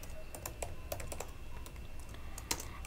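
Keystrokes on a computer keyboard while an SQL insert query is entered, scattered clicks with brief pauses and one sharper tap near the end, close and fairly quiet, no talking.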